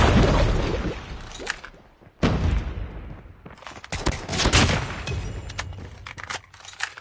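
Scattered gunshots and bursts of automatic fire in a Call of Duty Mobile match, sharp cracks repeating irregularly at close to mid range, with short booming hits between them.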